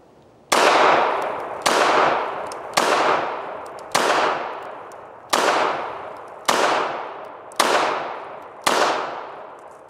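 Eight sharp gunshots from a Beretta Model 85 Cheetah .380 ACP pistol, fired at a steady pace about one per second, each loud crack trailing into a brief decay, with no talking.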